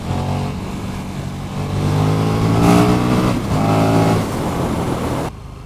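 A KTM 1290 Super Duke R motorcycle engine revs nearby, its loud, throaty drone swelling and holding before cutting off abruptly near the end, with no talking.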